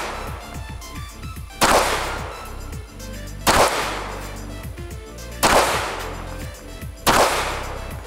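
Springfield Hellcat RDP pistol fitted with a compensator fires four sharp, loud shots spaced roughly two seconds apart, each with a short ringing decay, and no talking between them.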